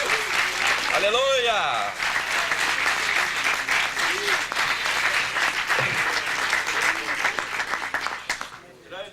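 A church congregation at a worship service claps for Jesus with loud, sustained applause, while a voice calls out in praise over it and the clapping fades near the end.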